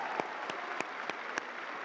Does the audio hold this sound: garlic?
no